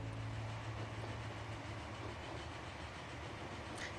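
A tram rolling along rails in the video game Transport Fever 2, a faint steady rumble with soft rail noise, heard alone without talk.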